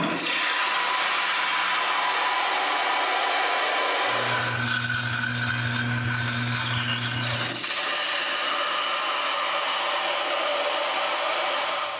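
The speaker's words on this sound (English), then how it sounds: "Drilling through hardened steel is a pain." A drill bores through hardened steel, giving a loud, continuous grinding whine close by that changes to a lower, heavier tone partway through and then returns, with no voices.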